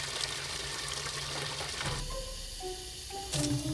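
Running water splashes steadily from a bidet spray, a continuous close hiss and trickle with shifting tones and a brief louder gush near the end, no talking.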